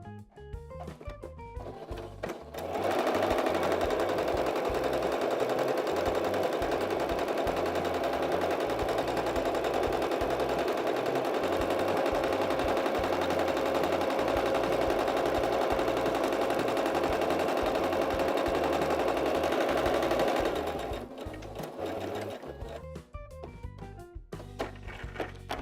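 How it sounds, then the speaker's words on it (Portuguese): A sewing machine running a continuous seam around fabric for a cat-themed crib bumper: a steady, even mechanical whir that starts, holds for roughly eighteen seconds without pause, then stops, heard close and alone. "vamos passar uma costura em toda a volta"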